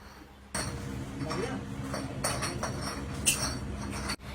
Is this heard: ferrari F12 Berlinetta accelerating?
no